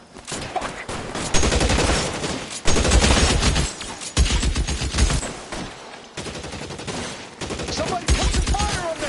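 Loud, rapid gunfire bursts in the video game L.A. Noire, repeated volleys of close shots with short gaps between them.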